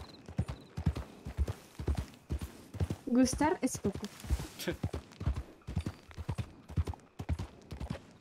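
Horse hooves clip-clop in a steady walking rhythm through the RedM video game, close and clear, with a brief neigh partway through and someone speaking Spanish over the footsteps.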